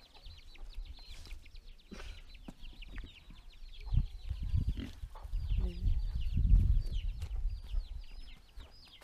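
Chickens cluck and call in a village farmyard that also holds pigs and geese. The busy, overlapping calls run throughout, over low rumbling farm noise that swells toward the middle.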